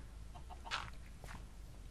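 Chicken clucking in the Minecraft video game: a couple of short, faint clucks over a low background hum.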